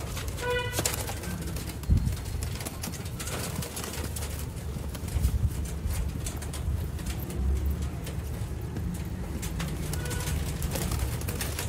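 Sialkoti Sheikh black-faced pigeons coo in a breeder's loft, soft repeated low cooing under steady background noise, with brief flutters of wings now and then.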